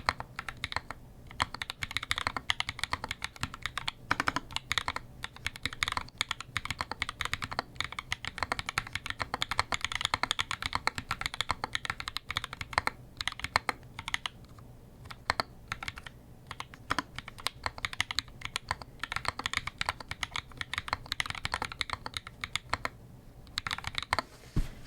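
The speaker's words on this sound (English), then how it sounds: "I can hear you typing." Continuous typing on a Corne split keyboard fitted with MX Blue switches, crisp clicky keystrokes in quick irregular bursts with short pauses, close and clear, with no talking.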